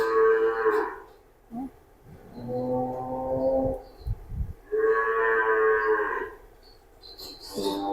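Young Red Friesian heifers at a dairy farm moo loudly and close by, with about four long, drawn-out calls separated by short quiet gaps.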